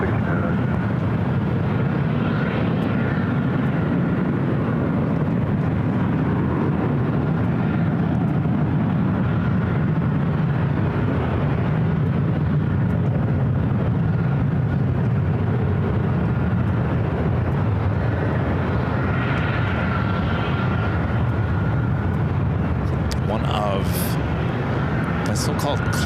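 A jet takes off from runway 24 Left at LAX, its steady, broad engine roar rolling on continuously beneath a person talking.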